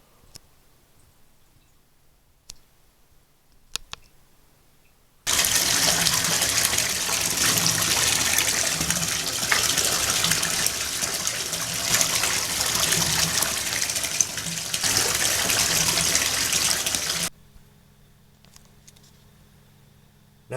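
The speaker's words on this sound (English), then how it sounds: "What you're gonna want to do is rinse it, and rinse it well." Pool filter sand from a 20-pound hardware-store bag being rinsed under running water, a steady, loud gushing flow that starts suddenly, runs for about twelve seconds and cuts off, with quiet handling before and after.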